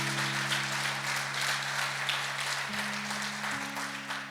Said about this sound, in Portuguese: Aplauda o Senhor no seu lugar aí.